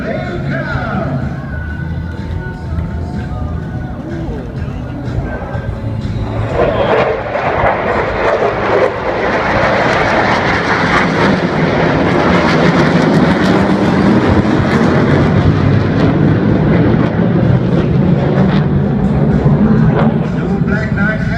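RSAF Black Knights fighter jets flying overhead at the Singapore Airshow 2014, a loud broad jet roar that swells and holds steady over about twenty seconds, with an announcer talking over it.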